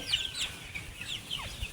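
Chickens on a poultry farm, several birds giving short clucks and faint calls at a moderate distance over a quiet barn background.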